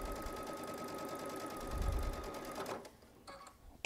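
A Baby Lock Solaris sewing machine piecing a quilt block with a quarter-inch foot, a steady close mechanical whir that winds down and stops near the end.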